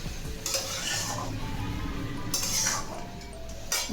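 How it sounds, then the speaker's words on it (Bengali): Spinach curry with halved fried lentil dumplings being stirred in a pan, a spoon scraping and clinking against the metal over a soft steady sizzle, with a few louder scraping strokes. "বড়িগুলো দিয়ে একটু নেড়ে তরকারিটা নামিয়ে নেব।"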